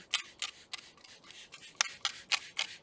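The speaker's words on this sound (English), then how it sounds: "Now I'm going to spray the convertible top cleaner" Repeated short hissing spray bursts of cleaner onto a convertible top, about ten quick pumps in an uneven rhythm, close and fairly crisp with no talking.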